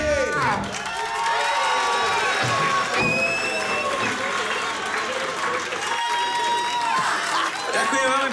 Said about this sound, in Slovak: Ďakujem veľmi pekne, priatelia, za váš potlesk.